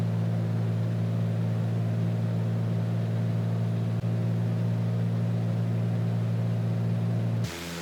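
A light aircraft engine in MSFS 2020 holds a loud, steady droning hum throughout the takeoff roll, with a brief click partway through and a sudden shift in tone at the very end. No one speaks.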